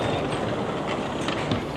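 A passenger train arrives at a station, a steady close rumble of wheels on rails with faint rattling and brief squeals.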